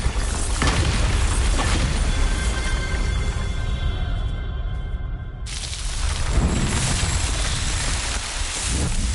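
A Bombarda spell explosion in the video game Hogwarts Legacy goes off as a loud, continuous booming blast. It cuts out briefly mid-clip and then returns at full strength, with no talk over it.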